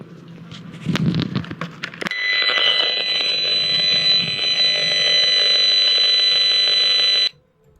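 After a brief rustle, a loud, harsh electronic buzzing tone starts abruptly and drones steadily with a pulsing texture for several seconds, then stops.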